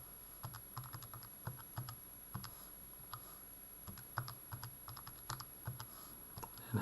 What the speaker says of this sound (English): we go back to our calculator, type it in carefully